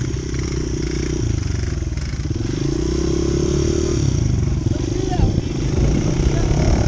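Dirt bike engine revving steadily up close while the bike drifts across snow and ice, with a continuous loud droning roar and scraping clatter, and people talking over it.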